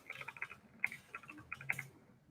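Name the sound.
typing on a computer keyboard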